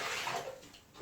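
Water poured from a container into a dry mix of grit sand and soft sand for a quicklime hot-mix lime adhesive, a brief close splashing gush that trails off.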